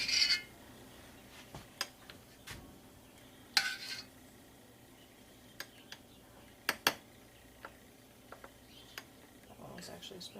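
A spoon scrapes and taps against glass canning jars while a mixture is spooned in, giving scattered sharp clinks and knocks at irregular intervals over a quiet background.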